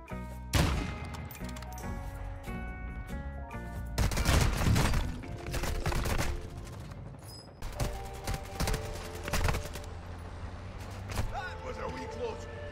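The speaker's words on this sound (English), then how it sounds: "Mortar strike inbound now." Mortar strike explosions in Warzone 2 on Al Mazrah, arriving as a string of separate booming impacts spread across several seconds, some close and loud, others fainter, over background game sound.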